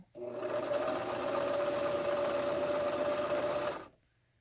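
A sewing machine stitches the hem of a homemade cloth face mask, running in one steady, loud, continuous burst of close motor whir and rapid needle chatter for several seconds before stopping abruptly.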